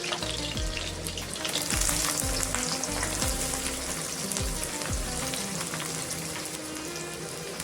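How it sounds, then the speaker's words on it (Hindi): Onion and garlic fry in hot oil in a kadhai, a close, steady crackling sizzle with occasional stirring scrapes, holding loud throughout. "प्याज लहसुन को मैं फ्राई कर लेंगे"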